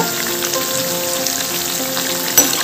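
Bread slices fry in a pan for Hyderabadi double ka meetha, giving a steady crackling sizzle close up, with one brief clatter near the end and no talk.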